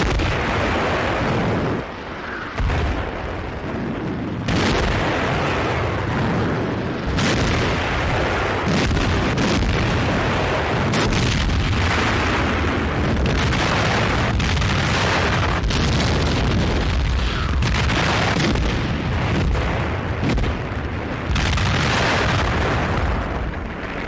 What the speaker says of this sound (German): Einschläge der feindlichen Artillerie.